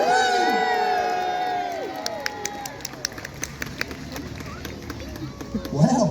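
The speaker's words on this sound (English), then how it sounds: "Let's give them a cheer." A crowd of children cheering and whooping at the Peasholm battleship show, a loud shrill burst of voices near and far with some clapping, alongside dense high gliding squeals.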